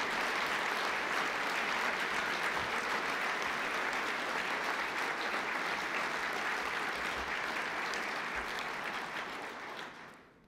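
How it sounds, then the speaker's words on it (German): Sustained applause from a large audience at a German Olympic Sports Confederation general assembly, steady and dense for about ten seconds before fading out at the end. "Applaus"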